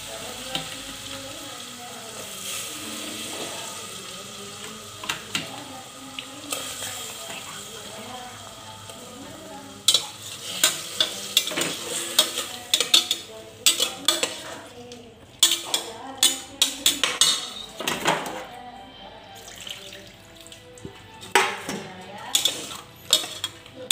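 Vegetables are stirred with a roasted onion-coconut masala in a pan, with soft frying sizzle under light talk at first, then a run of loud, irregular metal scrapes and clanks of a spoon against the pan.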